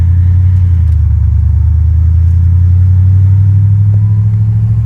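A 1959 Chevrolet Impala's engine, driven for the first time in decades, gives a loud, steady low rumble that drones on unbroken and close by.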